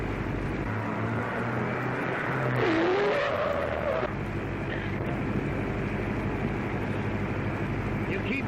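An early-1930s car speeds along with a steady loud engine roar, a rising whine swelling briefly midway, with voices talking over the motor.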